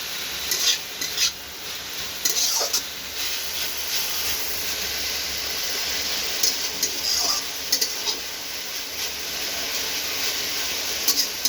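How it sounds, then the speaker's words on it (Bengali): Mixed leafy greens frying in a pan, a steady sizzle and hiss with repeated scraping stirs of a spatula at irregular intervals, close and moderately loud. "মোটামুটি 3 মিনিট রাখার পরে একটু ভালোভাবে নাড়াচাড়া করতে হবে"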